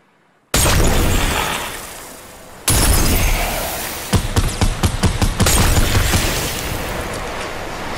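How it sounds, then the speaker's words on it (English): Suppressed pistol and SMG fire in Fortnite Battle Royale, with loud blasts and crashing impacts followed by a rapid string of sharp shots, all close and intense. "they brought out a silenced pistol, and then the SMG silenced"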